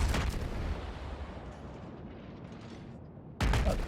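Guns on the Minotaur cruiser firing in World of Warships, its five twin 152 mm turrets in rapid salvos, a dense rumbling roar that drops away, then a sharp loud blast at the end.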